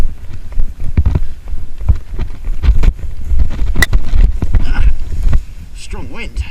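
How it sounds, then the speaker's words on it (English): Strong gusting wind buffets the microphone during a paragliding landing in South Australia, a loud rumbling roar that surges and drops for several seconds before easing, with a voice heard briefly near the end. "Strong wind."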